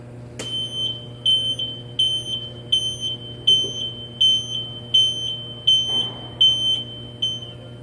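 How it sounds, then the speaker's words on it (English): A Tenney BTRC 05 temperature chamber with an F4 controller sounds its alarm on power-up: a steady series of about ten shrill, evenly spaced beeps over a low electrical hum. "Upon power up, the alarm will sound during its booting up of its program to its main screen here."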